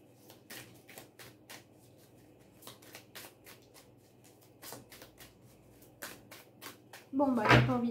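A deck of oracle cards is shuffled by hand in a rapid, even run of crisp riffling flicks, ending in a louder rustling burst as a card is drawn.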